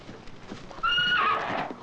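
On an old 16mm film soundtrack, a horse gives one loud, close neigh that rises over faint hoof clops and background noise.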